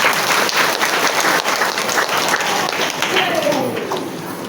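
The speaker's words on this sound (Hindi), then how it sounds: "आज के दिन के एक बार फिर ताली से सम्मान।" An audience at a commemoration of Rani Durgavati applauds loudly and steadily throughout, a dense wash of many hands clapping that tapers slightly at the end.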